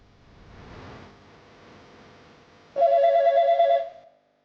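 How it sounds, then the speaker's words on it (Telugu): Quiet low rumble, then a loud electronic ring tone bursts in and sounds steadily for about a second before cutting off. "రింగ్ అవుతుంది."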